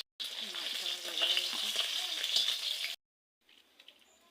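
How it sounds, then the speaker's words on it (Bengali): Cumin seeds and bay leaf sizzle loudly in hot oil for a banana-stem and fish curry, a dense close hiss lasting about three seconds before cutting off, then a faint return. "তেলের পরে দিয়ে দেবো জিরে তেজপাতা দিয়ে দেবো"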